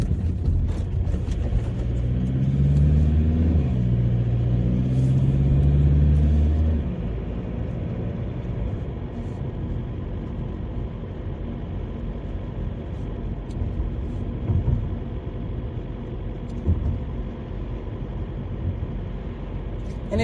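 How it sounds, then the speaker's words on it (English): Cars roll past on a road near Foz do Arelho beach in Portugal: a steady low rumble that swells as a vehicle passes close early on, then settles into a softer continuous traffic drone with no voices. "people are driving everything here. And I mean everything. Audis, BMWs, tons of Volvos"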